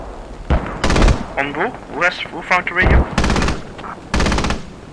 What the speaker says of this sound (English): random AA fire that's coming from the northwestern